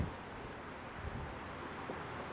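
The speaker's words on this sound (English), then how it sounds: "it's going to be a little windy today" Steady wind rushing across the microphone on Galveston's Strand near the Gulf, a constant broadband roar with faint low buffeting and no voices.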